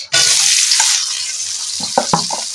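Chopped onions dropped into oil with whole spices and peppercorns for a chicken kosha, bursting into a loud hiss that settles into steady sizzling, with a few clinks and stirring knocks near the end.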